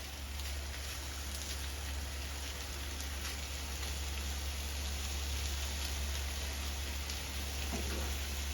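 Water is poured into a cooking pot holding fish, a continuous soft hissing rush that holds steady and faint for several seconds.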